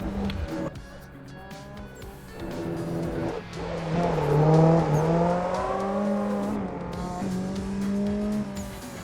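A drift car at full throttle in Assetto Corsa Evo, its engine revving up through a rising, wavering howl with tire squeal, loud and close, easing slightly as the slide settles.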